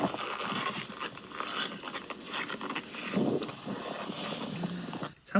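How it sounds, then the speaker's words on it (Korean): Wind blows across the Eoui-gok trail on Sobaeksan mountain in a steady, low, rushing roar that buffets the microphone, rising and falling with gusts and no talking. "여기서부터 바람이 살짝살짝 불기 시작하고요."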